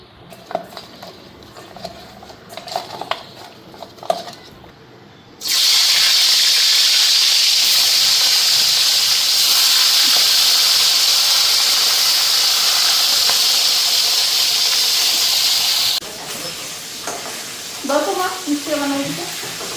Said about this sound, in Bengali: এখন মাছের মাথাগুলি ভেজা নিই। তো হলুদ দিলাম, এদিকে লবণ দিলাম।